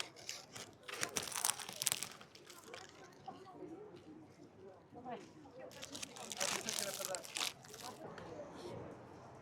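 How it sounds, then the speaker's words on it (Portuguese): Crunchy pastry is bitten and chewed right at the microphone during lunch in Paris, loud crackling crunches in irregular bursts with quieter stretches between them. "Olha a crocância dessa massa"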